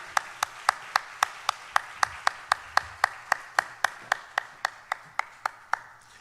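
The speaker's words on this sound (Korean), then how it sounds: "우리 하나님께 영광의 박수 올려드리십시다." A church congregation at a Sunday worship service claps in steady unison, about two dozen sharp, evenly spaced claps ringing out in a brisk rhythm with no voices over them.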